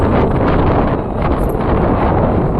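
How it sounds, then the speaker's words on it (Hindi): A cool wind blows steadily and loudly across the microphone along a hillside path beside a tea garden, a constant roaring rush with no break. "इतने प्यारे हवा चल रही है ठंडी ठंडी"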